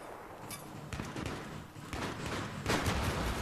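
A Battlefield 3 explosion bursts with a sharp crack and rumbling tail, joined by several more quick blasts and gunfire-like bangs in a short, moderately quiet burst.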